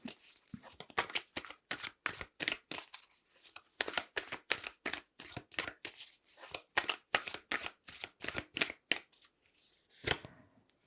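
Tarot cards shuffled by hand in a long series of quick riffling bursts, close and crisp, with brief pauses between bursts and no talking.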